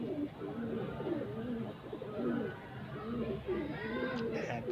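Fancy pigeons coo in a soft, repeated rolling rhythm close by, several birds overlapping in low throaty phrases, with someone speaking over them and a faint chirp near the end.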